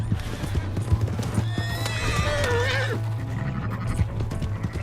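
A horse in the Red Dead Redemption 2 video game gallops with close, rhythmic hoofbeats and gives a loud, wavering neigh partway through.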